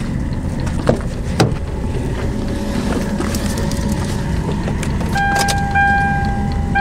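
In a diesel car with its battery removed, a brief two-note dashboard chime dings as power arrives from a parking heater's emergency jump function. It sounds over steady, noisy background rumble and scattered clicks.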